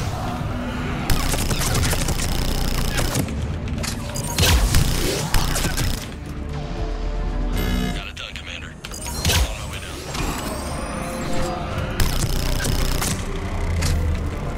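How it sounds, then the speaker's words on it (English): Heavy, minigun-like automatic gunfire from the video game Mass Effect 3 comes in dense bursts mixed with explosions and game effects, with a voice talking at times over the action. "Sounds like a minigun, honestly."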